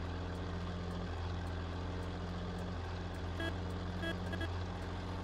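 A simulated truck in World Truck Driving Simulator overtakes a Volvo truck, its engine droning loudly and steadily with a shifting low tone, with brief chirping beeps near the end.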